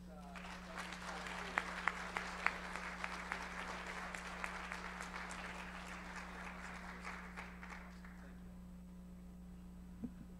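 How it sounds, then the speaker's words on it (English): Clapping fills a symposium hall as an audience gives a round of applause, with sharp individual claps over a dense wash that fades out near the eight-second mark, leaving a steady electrical hum and a faint voice. "How about another great round of applause for Dr. Crow"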